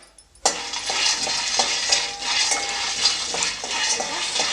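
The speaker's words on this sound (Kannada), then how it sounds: "ನೆಕ್ಸ್ಟು ಶೇಂಗಾ ಬೀಜ ಹಾಕ್ಕೊಳ್ತಾ ಇದ್ದೀನಿ" Peanuts tipped into a hot pan and stirred as they roast for puliyogare powder, a sudden loud rattle followed by steady scraping and sizzling close by, with no voices.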